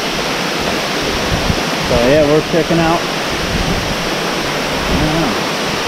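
Steady roaring rush of Beaver Meadow Falls, a mountain waterfall reached by hiking, loud and continuous with broad noisy texture, while someone speaks briefly over it partway through.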